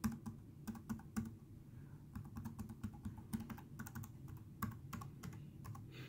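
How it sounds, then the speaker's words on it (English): Quiet keys of a Jelly Comb ultra-slim keyboard tapping in an irregular typing rhythm, soft clicks close by with a low hum in the background. "you will probably hear on here that these keys are somewhat quiet"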